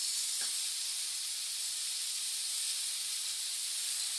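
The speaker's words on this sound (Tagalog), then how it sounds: "at this point, pwede natin ilagay yung gata" Coconut milk goes into a hot pan of egg curry and sets off a continuous broad hiss of steam and sizzle, steady and fairly loud from start to finish with no talking.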